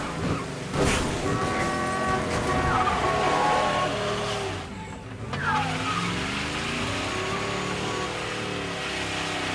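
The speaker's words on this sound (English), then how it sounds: "Driving like a lunatic in Chinatown" Car racing recklessly through Chinatown in Mafia Definitive Edition, engine roaring loud and close throughout with tires squealing and skidding, and a horn toot near the start.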